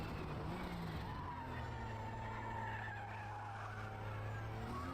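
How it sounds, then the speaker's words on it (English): A BMW M2 skids past in the racing game Forza Motorsport, with faint sustained tire squeal and engine tones sweeping across over a constant low rumble. "the car just skidded past me"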